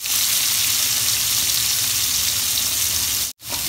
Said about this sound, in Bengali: কড়াই গরম হয়ে গেছে, এবারে আমি পনিরগুলো এক এক করে ভেজে তুলব।